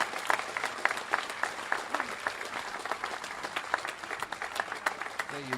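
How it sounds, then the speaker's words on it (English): A crowd at the opening of the Heath Robinson Museum in Pinner breaks into steady, moderately distant applause at a prize-giving, dense claps continuing throughout. "Lovely, big round of applause."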